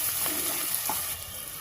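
Ginger garlic paste fries in a pan with a steady, soft hiss and sizzle and faint stirring scrapes, close up and unbroken, with no voices.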